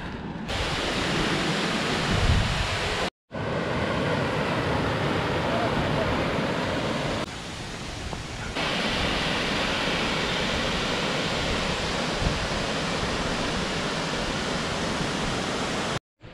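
Roaring, steady rush of the Ouzoud waterfall in Morocco, a dense continuous wash of falling water with brief dropouts, heard close and loud with no clear talk.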